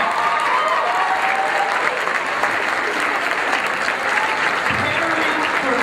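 A forum audience gives a steady, full round of applause that holds at an even, loud level throughout, with no breaks and no clear voices above it.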